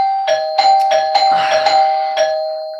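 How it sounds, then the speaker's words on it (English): A doorbell chimes loudly in a rapid string of about eight rings, each bright tone overlapping the next before fading at the end. "I hate when people ring my doorbell."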